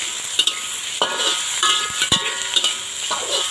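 Okra quick-fried in a hot pan gives a close, steady sizzle, broken by sharp metallic clanks and scrapes of a utensil against the pan.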